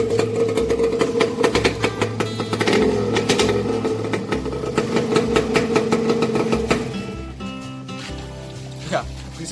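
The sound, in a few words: two-stroke motorcycle engine with snail exhaust starting and idling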